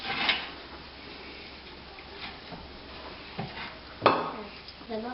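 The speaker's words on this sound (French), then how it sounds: "Ah, on va peut-être le remuer, et il vous faut un fouet." A whisk clinks and scrapes against a bowl while stirring yogurt cake batter, sparse irregular taps with one sharper knock, fairly close and moderately quiet.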